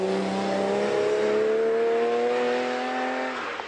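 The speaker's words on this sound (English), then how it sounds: "when you fire up the flat 12, the sounds come" A Ferrari flat-12 engine revs hard in a sustained, loud run, its rising harmonic whine climbing steadily before easing off near the end, with no voices.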